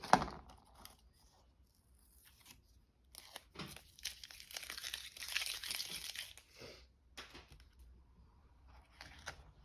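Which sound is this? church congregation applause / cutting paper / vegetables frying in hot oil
cutting paper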